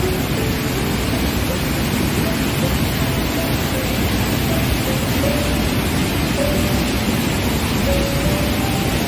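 A monsoon-swollen waterfall in Sikkim near Gangtok roars as a dense, constant broadband rush close by, loud and unbroken from start to finish.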